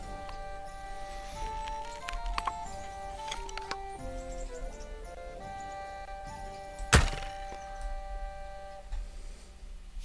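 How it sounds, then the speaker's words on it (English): Arrows strike an archery target during a shooting contest in Kingdom Come: Deliverance II, with soft thunks scattered through ambient game sounds and one sharp, louder impact near the end. "Shooting fast is one thing, but actually hitting the target too."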